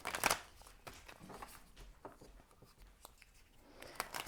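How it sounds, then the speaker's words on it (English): A deck of tarot oracle cards being shuffled by hand: a brisk riffle at the start, then soft, irregular card slides, taps and flicks, near and moderately quiet, with no speech. "I've already pre-shuffled all these cards, so they are shuffled."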